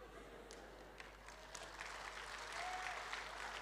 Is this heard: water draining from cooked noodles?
no